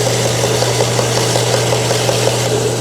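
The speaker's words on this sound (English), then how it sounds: "I'm going to deburr the ends of the belt sander really quick." A belt sander deburring the ends of a metal workpiece in a machine shop runs with a loud, steady motor drone and a continuous abrasive hum throughout, with no talking.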